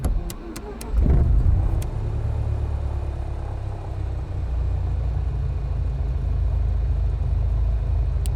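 A simulated RV-14 light aircraft engine in Microsoft Flight Simulator 2024 rises as the throttle opens, settling into a steady, loud low rumble with a few sharp clicks near the start.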